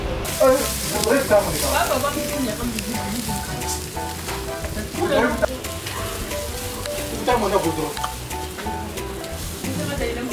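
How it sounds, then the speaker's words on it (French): Fish grilling on an oiled grate over a fire, a steady close crackling sizzle that runs throughout, with a voice speaking briefly over it at a few points. "un peu d'huile sur le grillage pour que le poisson ne se colle pas. Et puis on met le poisson au feu."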